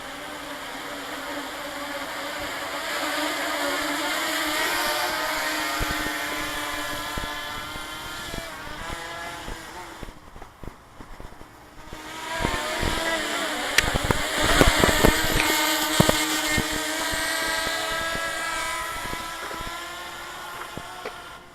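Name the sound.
multirotor drone propellers during a test flight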